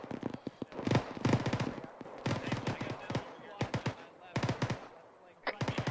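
Heavy shooting in a military game, Operation Black Spear, comes as rapid bursts of automatic gunfire, crackling in quick clusters with short pauses, moderately close, with voices now and then.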